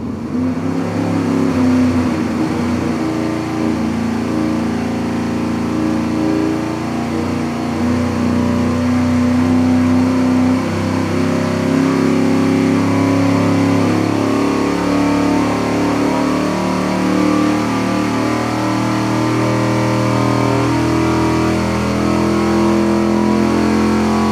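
An engine runs loud and sustained on a dyno test for a long stretch, its pitch wavering and slowly climbing under steady load, with no talking.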